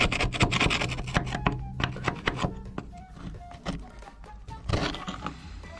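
Steel scraped by hand on a Dutch barge, a series of rough, irregular rasping strokes and thunks at close range, some sharp and some dull, with brief pauses between them.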